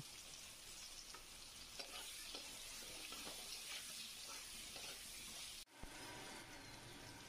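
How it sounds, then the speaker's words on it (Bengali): Pieces of pointed gourd fry in oil with salt and turmeric, producing a quiet, even hiss with faint stirring scrapes, briefly interrupted near the end before resuming. "পটলগুলো খুব সুন্দর করে ভেজে নিয়েছি"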